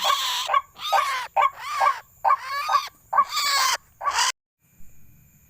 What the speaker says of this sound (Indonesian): dapat burung truak-truak